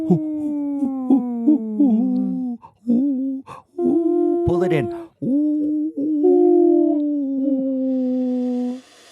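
Several people imitate wolf howls with their voices, drawn-out wavering hoots rising and falling in overlapping pitches, broken by short gaps and a brief spoken line, loud and close in a talk-show setting.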